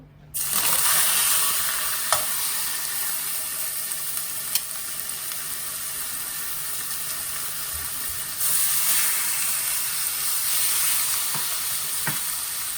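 Lemongrass-marinated pork chops frying in a pan, a loud, continuous close sizzle with a few soft clicks, swelling briefly louder partway through.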